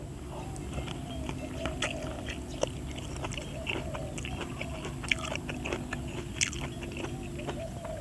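Crunchy papaya salad made with large chicken feet being chewed up close, with a steady stream of loud crunching and biting over a constant background noise.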